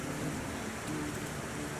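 Steady rain falls in a city scene in the video game The Thaumaturge, a dense continuous hiss with faint low hum beneath and no speech.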